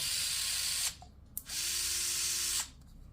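A Dnipro-M cordless screwdriver whirs loudly and steadily close by in two long bursts, with a short pause and a brief click between them, and no talking over it.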